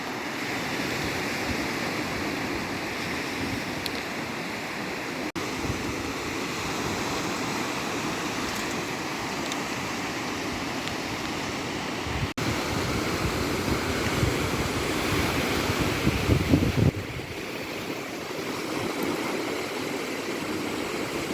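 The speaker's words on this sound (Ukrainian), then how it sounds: "І море хвилюється." Rough Black Sea waves roll in under thick fog at Odesa, a continuous broad wash of surf with a slight swell in loudness toward the end and no voices.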